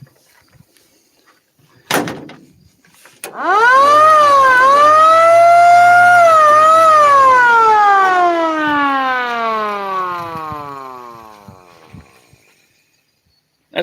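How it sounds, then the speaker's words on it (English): An old police siren winds up after a couple of sharp clicks, its loud wail climbing, holding steady, then slowly falling in pitch as it spins down to silence. "I got this old police siren. Y'all want to hear that? It's kind of loud once it takes off."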